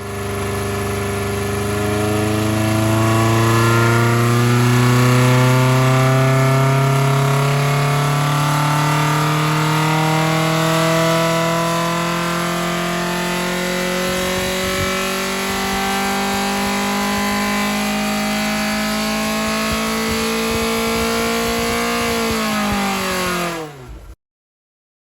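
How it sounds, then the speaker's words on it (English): Ford Pinto 2.1 engine fitted with bike carburettors and intake ram pipes revving hard, rising and falling through repeated throttle blips, loud and close before cutting off abruptly. "run the engine with some ram pipes in to get some length into the intake"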